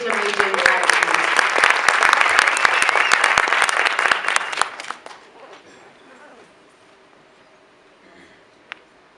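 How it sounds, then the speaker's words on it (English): Conference audience gives a loud round of applause for a township investment presenter, dense clapping for about five seconds that fades to scattered claps and near silence. "just please give them a really huge round of applause for major encouragement"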